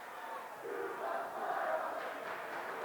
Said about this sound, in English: Crowd's excited to see him come in.